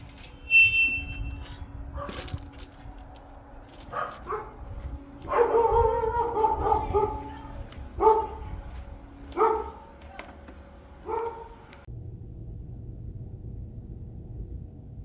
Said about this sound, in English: Those dogs were barking like crazy.